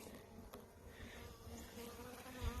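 A large spring honey bee colony buzzing in an open hive in Michigan, a dense continuous drone of many bees with no voices, steady and fairly close throughout.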